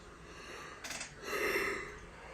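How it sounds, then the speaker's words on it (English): Someone yawns near the microphone, a drawn-out breathy inhale rising to an open, airy exhale, quiet and unaccompanied by speech. "I'm yawning like crazy."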